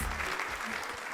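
Applause from a crowd at a school cooking art competition final, a dense, steady wash of clapping that holds at an even level for the whole moment.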